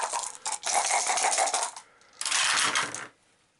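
Five dice rattling and tumbling in a board game session, two distinct bursts of clattering roll separated by a short pause, close and clear without talk.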